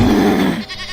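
A ghostly goat in a Hindi witch horror story gives one loud, drawn-out bleat that wavers and fades after about half a second.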